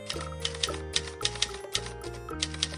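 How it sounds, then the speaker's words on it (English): A typewriter clatters steadily with rapid, evenly spaced key strikes over a sustained tonal musical backing, close and clear throughout. "T for typewriter."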